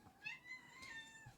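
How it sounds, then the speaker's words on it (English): A part-Siamese cat meows in a drawn-out, whiny, wavering call lasting over a second, quiet and alone, with no talking. "It's such a whiny cat."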